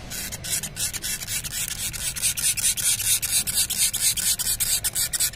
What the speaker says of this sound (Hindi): ये पेट्रोल का स्प्रे है हम इसको पेट्रोल से साफ करेंगे